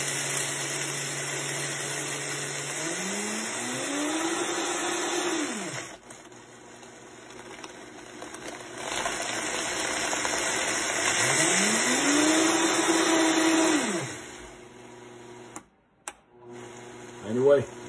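A grinder mixing a boreal pepper spice blend runs in two rising-and-falling bursts, each revving up, holding, then dropping away, close and fairly loud, with a quieter pause between them.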